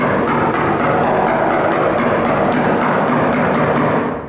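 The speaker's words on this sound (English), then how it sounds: "I'll show you can hear where the head of the hammer is" Steady metal hammer blows on a Ford Falcon body panel during metalwork, about a dozen evenly spaced knocks ringing loud and close over a constant background hum.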